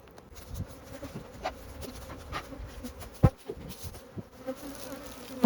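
A honeybee swarm is moved from a swarm box into a 10-frame hive. The bees hum in a continuous close drone, with scattered thumps and knocks from handling the box and frames.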